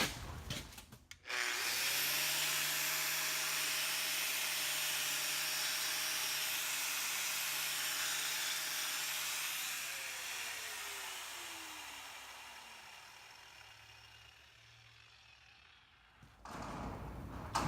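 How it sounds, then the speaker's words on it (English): A power tool's wire wheel grinds over a weld on a steel T joint, a loud continuous whirring rasp with a steady motor whine that winds down as the wheel spins to a stop. "Hit it with a wire wheel."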